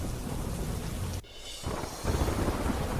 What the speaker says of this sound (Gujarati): ડાંગ જિલ્લામાં ધોધમાર વરસાદ